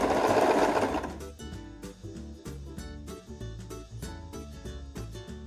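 A sewing machine stitches a seam on a halter blouse, starting with a louder burst, then running in a steady, close, rhythmic needle pattern with no talking.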